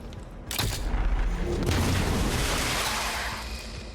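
Plasma Lance blast destroying cover in XCOM Chimera Squad, a loud booming impact that hits abruptly and then rumbles and crumbles on for several seconds.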